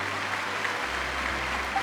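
Steady crowd applause in Genshin Impact, a dense wash of clapping that holds at an even level throughout the short stretch.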